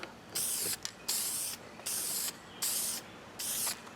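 Spray gun laying light coats of paint on Humvee (HMMWV) soft doors with a wide fan pattern: five steady hissing bursts of about half a second each, separated by short pauses, close and fairly loud with no talk.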